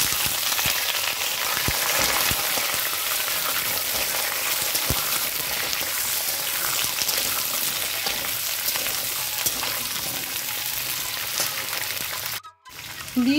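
Malabar spinach, pumpkin and potato tossed into oil tempered with dried red chilli and bay leaf, a loud close sizzle with stirring clatter that continues until a brief break near the end.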